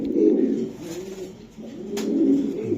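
Racing pigeons from the BRPL 2023 race coo in low, rolling bursts, several overlapping calls repeating close by with brief pauses between.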